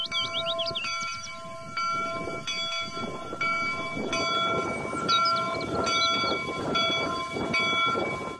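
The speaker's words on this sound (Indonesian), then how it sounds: "Yang ini lokomotif kereta api." A toy train locomotive plays repeated electronic horn toots and whistle-like tones over a chugging rumble, loud and close, in short bursts.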